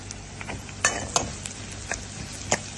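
Crushed garlic fries with onion and green chilies in a pan, a soft sizzle with a few sharp clinks and scrapes of a stirring utensil.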